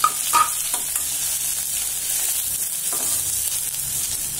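Cashews, ginger and curry leaves frying in a pan, giving a steady broadband sizzle with a few soft stirring scrapes near the start, close and continuous without speech.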